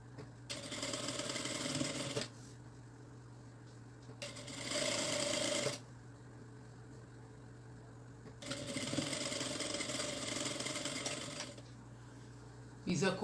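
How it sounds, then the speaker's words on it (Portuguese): Sewing machine stitching a seam on a backpack-style bag, running in three loud bursts of rapid whirring with quiet pauses between. "vou fazer a costura pelo lado direito para depois girar e fazer a costura"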